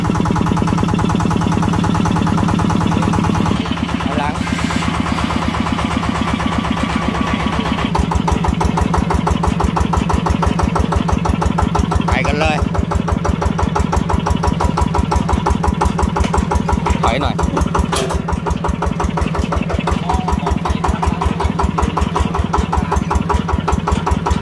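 A Yanmar 160 tractor's diesel engine runs steadily at idle with a low, even chugging rhythm, loud and close, with a few faint clanks along the way.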